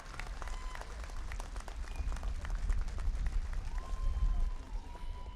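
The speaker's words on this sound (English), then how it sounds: "I request everybody to kindly clap." An audience claps at a Congress party event after a gift presentation to a senior leader, a dense sustained applause with a low crowd rumble, heard from within the hall.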